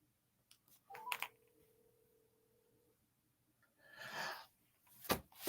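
A few telephone dialing tones beep in short bursts against near silence, followed by brief faint rustling and a soft gasp-like breath.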